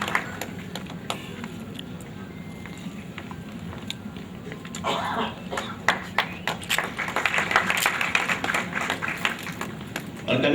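Audience applause greeting an award presentation at an Urdu Press Club event, swelling from scattered claps into denser, louder clapping over the second half, with faint speech murmur underneath.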